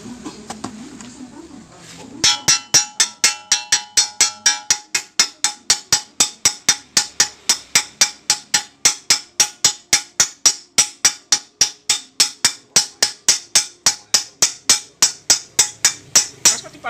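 A hammer beats out the front wheel bearing of a Suzuki APV car, a long run of sharp metallic strikes at a steady fast rhythm, loud and close, after a quieter start.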